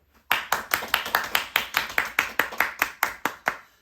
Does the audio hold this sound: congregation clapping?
yes